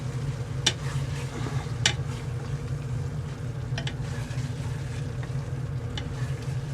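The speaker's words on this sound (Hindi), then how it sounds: "बस अभी थोड़ी देर तकरीबन 1-2 मिनट के लिए और इसको फ्राई करना है अच्छी तरह" Potatoes and masala for Lahori aloo chana fry in a pan under steady close sizzling, with a couple of sharp scrapes and clinks from stirring against the pan and no talk.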